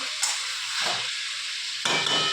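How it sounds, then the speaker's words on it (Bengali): Pointed gourd curry with Bombay duck fish and spices is stir-fried and cooked down in a pan, giving a steady close sizzle broken by two bursts of stirring scrapes. "এই যে লোটে মাছ, পটলের তরকারির কালার খুব সুন্দর করে কষাচ্ছি, আর ভালো করে কষানো হোক।"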